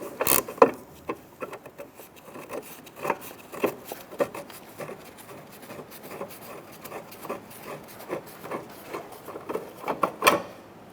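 A 10mm socket turns out screws on the bumper of a 2002-2005 Ford Explorer, making a steady series of faint, close clicking and ratcheting ticks with short pauses between them.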